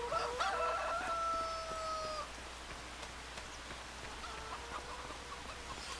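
Chickens in Farming Simulator 25 cluck and crow over a steady patter of rain on a wet farm morning, the calls clearer early on and fainter after.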